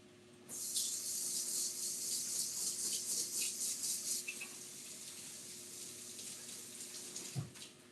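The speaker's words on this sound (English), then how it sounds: "let me wash my hands" Water pours steadily from a running tap while hands are washed beneath it, a close, continuous splashing rush lasting several seconds before a brief bump near the end.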